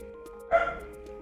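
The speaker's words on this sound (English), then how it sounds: "Apologies for the barking. I'm dog sitting for my aunt." A single short dog bark, fairly faint and slightly distant, over a quiet steady background hum.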